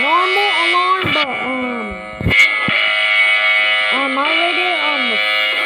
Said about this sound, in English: It's just a normal alarm, but I kind of like it.